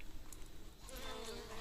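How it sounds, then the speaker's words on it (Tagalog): Two bees buzz close by in a faint, wavering drone that lasts under two seconds, with quiet background noise. "Yung dalawang bubuyog naglalabing-labing."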